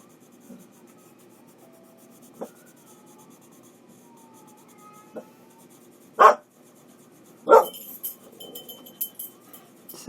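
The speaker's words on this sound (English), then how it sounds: "Sorry for the barking" Vicky the dog barks a few loud, sharp times indoors over a quiet background of pen scratching on paper, with faint distant sirens from emergency vehicles passing outside.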